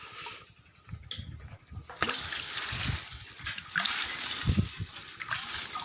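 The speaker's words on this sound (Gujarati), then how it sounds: "આપણે આ લીંબુડીને મસ્ત ગોળ કરી ને પાલર પાણી પાઈ દીધું છે" Water gushes and splashes steadily into the ringed soil basin around a lime tree as it is watered, starting after a brief quieter moment and continuing at an even level.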